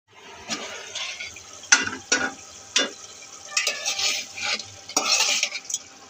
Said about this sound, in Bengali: এখন নাড়া দিয়ে রেখে দেব